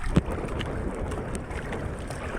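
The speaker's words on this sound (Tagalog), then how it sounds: "malakas pati ang alon." Rough sea water and wind wash steadily around a small fishing boat out on murky open sea, a continuous broadband rush with a brief thump near the start, no talk.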